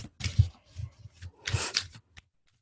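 A deck of cards being shuffled in two quick riffling bursts with a few soft taps of the cards between, close and fairly quiet, with no talk over it.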